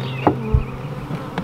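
Honey bees from a newly arrived colony of about 60,000 buzz around their hive on a farm, a steady close hum broken by a few louder knocks and bumps.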